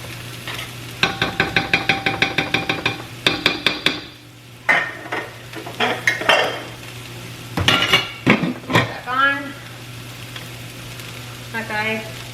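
Rice cooking in a pot is stirred and fluffed with a utensil: a run of rhythmic metallic clinks and scrapes, then looser scraping over a soft sizzle, with a brief voice near the end.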